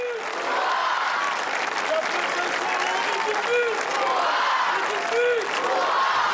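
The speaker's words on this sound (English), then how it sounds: "the population gathered to cheer the sovereign family" Crowd gathered in Monaco for National Day, applauding and cheering the princely family, with continuous loud clapping and scattered whoops.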